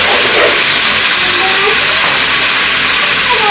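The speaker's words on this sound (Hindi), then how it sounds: "मछली की तरह फ्राई कर लेती हूँ" Fish fries in hot oil in a home kitchen, a loud continuous bright sizzle and hiss filling the whole moment with no pauses.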